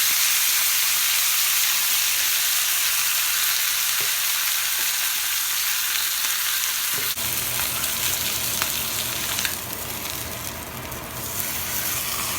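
A steak searing in hot caramelized ghee, an intense, close, continuous sizzle that grows into a harsher, noisier spit after a sharp contact sound midway, with no talking.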